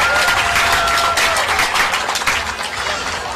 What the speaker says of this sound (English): Big round of applause for the Florida Macos.